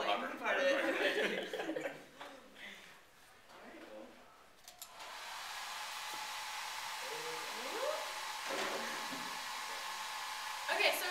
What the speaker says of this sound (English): turn the hairdryer on